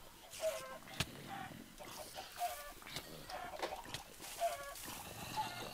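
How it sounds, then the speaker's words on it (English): Chickens cluck repeatedly in Minecraft, soft, recurring game clucks scattered through a busy, faint background of other game noise, with one sharp click near the start. "God, them chickens are annoying me in the background."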